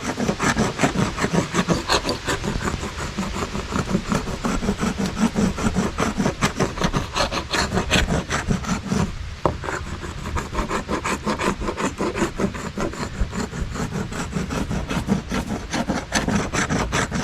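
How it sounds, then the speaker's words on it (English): A knife scraping fatwood tinder, a continuous rapid rasping of blade on resinous pine, loud and close, with a brief pause midway. "I am scraping tinder for my fire."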